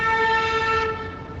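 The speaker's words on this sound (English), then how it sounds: "Why are you honking?" A single sustained horn blast on a Los Angeles street, loud and steady for most of a second before it cuts off and leaves low traffic rumble behind.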